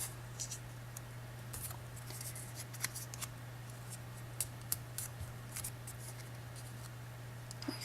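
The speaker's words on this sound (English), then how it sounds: "I can fold the flaps a little bit more" Paper flaps being creased and folded by hand for modular origami, soft scattered crinkles and sharp little taps over a low steady hum, close and quiet with no talk.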